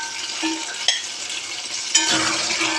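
Small Pennada brinjals being stirred as they fry in a pan, with a soft steady sizzle and a couple of sharp scraping clinks from the spoon against the metal.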